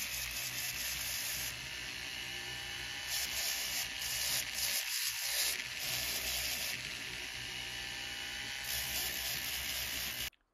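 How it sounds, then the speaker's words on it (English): A pedal-operated Foredom flex shaft spins a sandpaper cartridge against a gemstone ring during cleanup, making a continuous close whine and gritty hiss that runs steadily before cutting off at the end. "I just use this sandpaper cartridge to finish doing the cleanup work on this"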